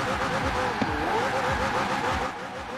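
A LEGO car in Forza Horizon 4 squeals its tires in a burnout, with a continuous engine roar and wavering screech of spinning wheels, fading slightly at the end; a voice may be faintly present underneath.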